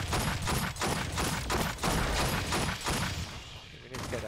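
A sentry gun firing in the game Aliens: Fireteam Elite, a dense, continuous burst of rapid automatic shots with mechanical clatter that pulses steadily for about four seconds, loud and close.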